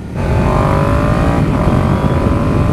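A 2018 Yamaha MT-07 motorcycle engine runs loud and close with a steady, throaty burble, its revs lifting gradually in a continuous drone with no talking.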